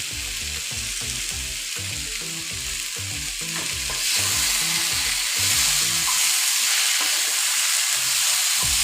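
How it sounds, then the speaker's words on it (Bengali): Potato and papaya chunks coated in spices fry in a pan with a steady loud sizzle, stirred in a rhythmic series of scraping strokes that stop partway while the hissing swells and continues alone. "অল্প দু মিনিট আমি ফ্রাই করে নিয়েছিলাম"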